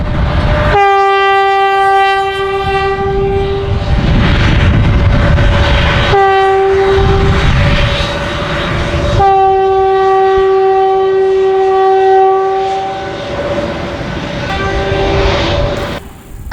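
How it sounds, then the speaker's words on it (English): A TEXRail commuter train rumbles past close by in Fort Worth, Texas, its loud horn sounding in several long blasts over the steady roar of the rails. "Up next would be a Textrail train heading eastbound toward DFW Airport"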